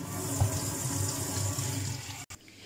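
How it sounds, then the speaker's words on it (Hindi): Tap water pours steadily into a bowl of rice being washed, a close, continuous gushing splash that cuts off abruptly near the end, leaving a quieter tail. "अब इसे मैं फुल कर लूँगी बॉल को।"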